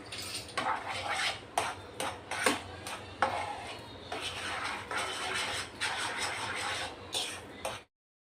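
A spoon stirs and scrapes an avocado starter mixture with salt and chopped coriander in a bowl, giving repeated clinking knocks against the dish at an uneven pace, close and clear with no talking.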